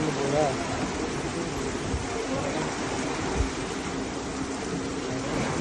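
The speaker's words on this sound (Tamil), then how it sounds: "திறந்துட்டாங்க தண்ணி இப்போ ஃபுல்லாக இறங்குது பாருங்க" Water pours through opened canal lock gates near the Falkirk Kelpies, a loud, steady broadband rush that fills the whole stretch without a break, with a brief voice faintly audible beneath it.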